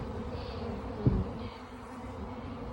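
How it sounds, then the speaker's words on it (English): A low, continuous hum of many bees buzzing around a hive entrance, flying in and out, steady throughout with a brief soft bump partway. "lots of the bees, it looks like they're coming in and out"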